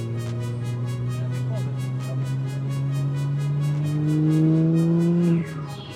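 A turbocharged BMW 135 engine, N54, revs steadily, its pitch climbing smoothly for several seconds before cutting back abruptly near the end.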